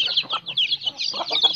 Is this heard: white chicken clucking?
yes